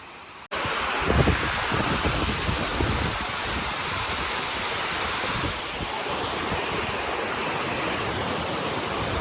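Water overflows from Vihar Lake in Mumbai during heavy rain, a loud, continuous rushing roar that starts abruptly and holds steady throughout with no speech.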